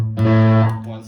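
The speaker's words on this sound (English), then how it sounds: "So it has two tube screamers, which I use for distortion." Electric guitar played through two Tube Screamer overdrive pedals on a pedalboard, one set moderate and one loud, gives a single loud, thick distorted chord that rings steadily and then fades, heard alone.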